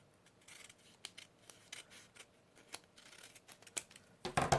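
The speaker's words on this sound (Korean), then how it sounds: "여기 대충 여유 공간을 남기고 이렇게 잘라주세요" Scissors snipping paper to cut the teeth for an origami dragon, a series of small, close, crisp cuts in an uneven rhythm, ending in a louder rustle of the paper.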